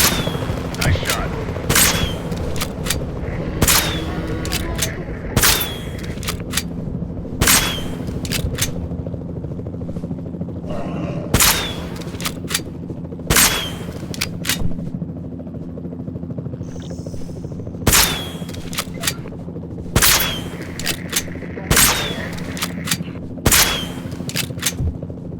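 Gunfire in the video game Jurassic World Evolution 2: repeated sharp shots at irregular intervals over a constant engine-like drone, with occasional game voice lines.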